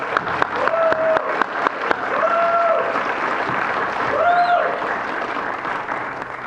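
Applause from a graduation audience at an industrial workforce training ceremony: steady, loud clapping from a full room, with scattered sharp individual claps and a few whistles over the top.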